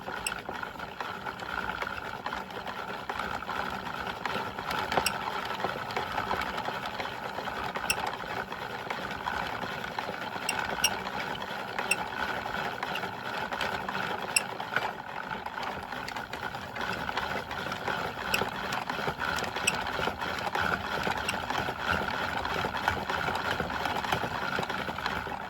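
Yarn ball winder spun by hand with a swift, winding yarn into a cake: a steady whirring mechanical rattle with faint rhythmic clicks, continuous and fairly quiet throughout, no talking.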